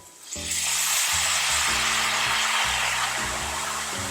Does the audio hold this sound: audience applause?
no